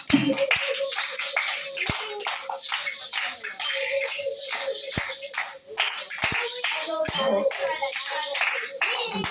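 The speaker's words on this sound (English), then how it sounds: "when you hear the drum and the clapping" Rhythmic hand clapping keeps time with hand drumming, steady and fairly loud throughout, with sharp low drum hits standing out at intervals and faint voices in the background.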